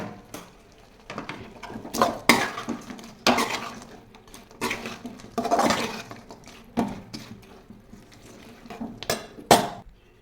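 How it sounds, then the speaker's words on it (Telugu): Cauliflower pieces tossed into thick masala in a pan, loud clanking of a metal spoon against the pan in irregular bursts, with clinks and scrapes and brief quiet gaps, no talking. "ఆ గోబీ ముక్కలను దాంట్లో వేసుకొని కలుపుకోవాలి"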